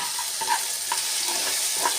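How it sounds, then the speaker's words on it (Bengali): Chopped raw onions hit hot oil tempered with cumin seeds and fry with a steady close sizzle, joined by light scraping and stirring sounds, with no voices. "2টো ছোটো ছোটো কাঁচা পেঁয়াজ কেটে রেখেছিলাম, দিয়ে দিলাম।"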